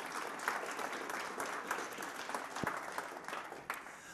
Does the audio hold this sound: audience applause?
yes